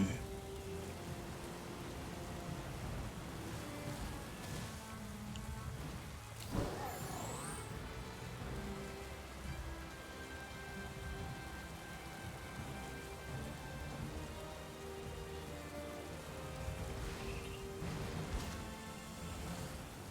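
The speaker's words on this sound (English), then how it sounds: "I might wait for it to stop raining, at least a little bit." Steady rain falls in the video game Pokémon Violet, a continuous wash of patter with a low rumble and a brief gust midway, no voices over it.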